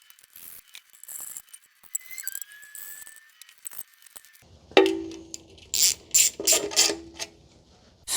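Ratchet clicking in short bursts while tightening oil pan bolts on a 1990 Honda Accord, metallic ratcheting close and fairly loud after a quieter stretch of faint mechanical handling.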